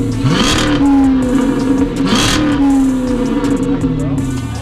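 Hemi V8 car engine with the mid-muffler removed, revving in two loud throaty surges that rise and fall close by, with people talking over it.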